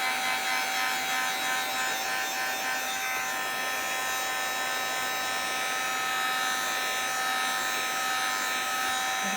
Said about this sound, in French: Parce que là j'utilise le pistolet thermique